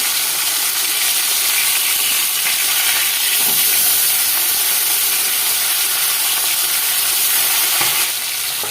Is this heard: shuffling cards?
no